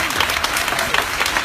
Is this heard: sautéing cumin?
no